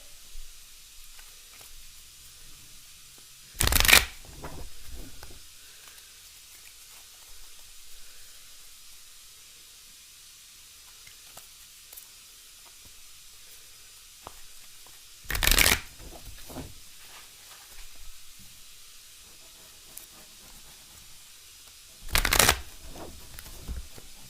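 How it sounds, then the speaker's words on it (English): Three separate bursts of tarot cards being riffled and shuffled, each lasting under a second, with long quiet gaps between them. "So we're going to shuffle a little bit."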